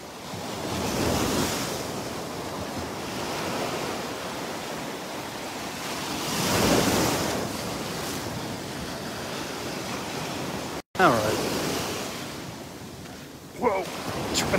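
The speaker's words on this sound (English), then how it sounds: "Getting bounced around here by these little waves." Small ocean waves washing and sloshing at Delnor-Wiggins beach, a steady wash of surf with gentle swells and wind buffeting the microphone, heard close and loud, with brief breaks near the end.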